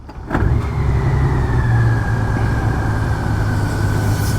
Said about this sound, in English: So what I'm gonna do, I'm gonna cut the bike off. So I'm gonna cut the bike back on.